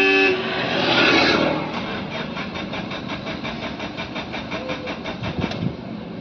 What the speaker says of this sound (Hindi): तो गाड़ी में सेल्फ लगा के देखते हैं।